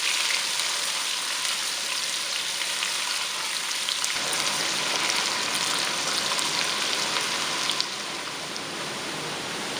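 Onions frying in a pan for an egg and vegetable curry give a steady, close sizzle like light rain that runs without a break, easing slightly toward the end.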